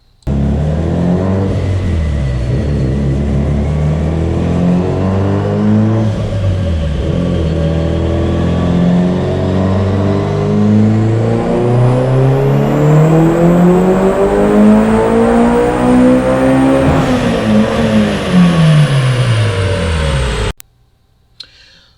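Tuned Mitsubishi Evo 8 with a BorgWarner EFR turbo, Wiseco pistons and Link G4+ ECU on a dyno power run: loud engine climbing steadily in pitch through the gears for about twenty seconds, then cutting off abruptly.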